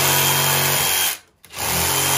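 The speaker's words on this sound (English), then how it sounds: "we're going to take the Jeff saw, we're going to rough this out, trim it up a little bit" A power saw roughs out and trims a sculpted rock habitat for a taxidermy mount, running loud and steady, cutting out briefly in the middle and then starting up again.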